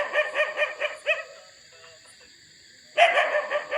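Dog barking at night, a quick run of sharp yaps, then a pause of near silence, then another burst of barks, fairly close and clear with no talking.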